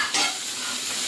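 Capsicum and onion stir-frying in a pan for appe and chutney, a steady close sizzle with a brief louder stir near the start, and no talking.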